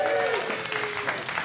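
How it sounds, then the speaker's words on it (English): A comedy club audience applauds for the comedian's mother, a dense, steady round of clapping lasting the whole moment at even loudness, with a faint voice line early on. "Round of applause for mama."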